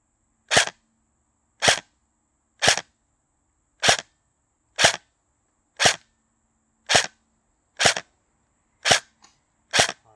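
A Black Rain Ordnance BRO M4 airsoft rifle on a 7.4 battery fires single shots through a chronograph, ten sharp, evenly spaced pops about a second apart over quiet background.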